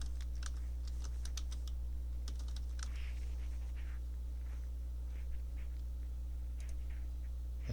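Keys clacking on a computer keyboard as comments are typed, in irregular quiet bursts of keystrokes over a steady low hum, with no talking.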